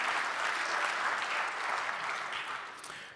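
A live audience at a talk claps in a steady, dense wash of applause that holds evenly for a few seconds and then eases slightly toward the end, with no voices over it.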